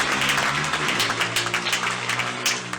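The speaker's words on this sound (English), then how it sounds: "And I want to give them a round of applause." Applause from the audience at a Rockfort community panel event, honouring the organisers, dense steady clapping filling the room with a low hum or music underneath, no speech.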